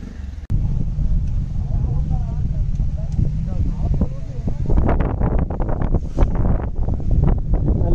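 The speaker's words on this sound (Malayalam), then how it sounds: "നല്ല കാറ്റും നല്ല മഴയും" Strong wind buffets the microphone on a rainy hill during an off-road climb, a loud steady roar with bursts of gusting noise and muffled rustling toward the end.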